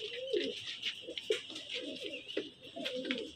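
Malwai pigeons coo continuously in soft, rolling phrases, fairly close, with faint chirps and background noise beneath.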